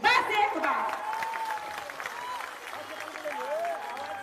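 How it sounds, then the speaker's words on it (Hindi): A rally crowd at Gandhi Maidan in Mahua, Vaishali, claps in welcome, a dense patter of hands under someone speaking over a loudspeaker. "तो हम उन्हें मान से, सम्मान से, आदर से ताली बजा के उन्हें स्वागत करें।"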